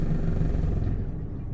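Engine of a Smokercraft 172 Osprey boat idling at low trolling RPM on the water, a low steady rumbling drone, close and continuous for the whole moment.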